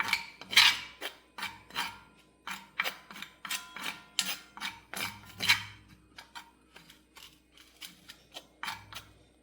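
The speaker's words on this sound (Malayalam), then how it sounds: "നെല്ലിക്കപ്പൊടിയും നീലമരിപ്പൊടിയും ഇനി രണ്ടുകൂടെ നന്നായിട്ടൊന്ന് നമുക്ക് മിക്സ് ചെയ്യാം" Amla and indigo powders being mixed in a bowl, a run of regular sharp scraping clinks of a spoon against the bowl, close and fairly quiet, repeating about twice a second.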